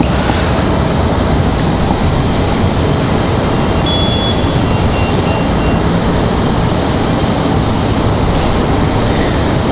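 WestJet airliner turning at Raleigh-Durham airport at night, its jet engines giving a steady, loud broadband roar with a faint high whine, continuous and unbroken throughout.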